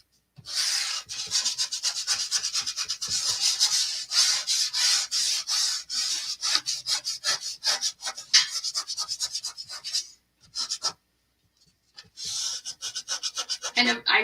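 Chalk scraping and rubbing across a surface while colors are applied in a holiday craft project, heard as steady repeated scratchy strokes close to the mic, with a short pause near the end before the rubbing resumes.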